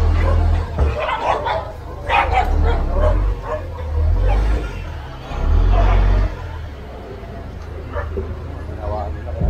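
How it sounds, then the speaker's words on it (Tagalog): Several dogs bark, yelp and whimper in loud, overlapping bursts, as if scuffling close by, while people talk over the commotion. "Away pa yung aso."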